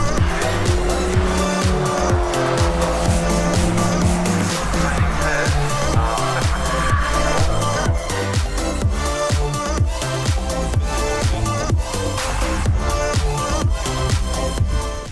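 A Volkswagen Golf race car laps at speed during a Super Lap Scotland time-attack round, with loud engine roar, gear changes and repeated tire squeals running continuously throughout.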